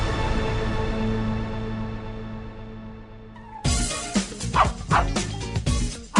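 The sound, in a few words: dog barking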